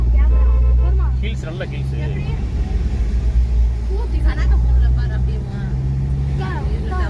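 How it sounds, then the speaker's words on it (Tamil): A vehicle engine strains with a low, heavy rumble while climbing the Meghamalai mountain road, steady and close throughout, with people talking over it. "வண்டி பாருங்க, திணறுது."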